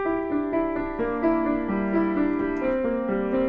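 Fast repeating riff of single piano notes from the opening of a song, played in an even, steady rhythm with a bass line shifting underneath, clear and close with no voices.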